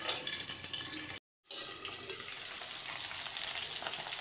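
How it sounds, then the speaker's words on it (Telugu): Onions frying in a pan for mushroom curry, a steady close sizzling hiss that cuts out briefly and then resumes, with no talking. "కలిపేసి ఉల్లిపాయలు వేగే వరకు మూత వేసేద్దాం"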